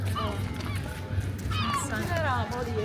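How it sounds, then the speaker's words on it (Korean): Seagulls call steadily over a busy Amsterdam street scene, with repeated squawking cries rising and falling throughout and people talking nearby. "갈매기가 너무 많다"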